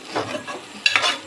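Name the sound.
masala roasting and sizzling in oil, being stirred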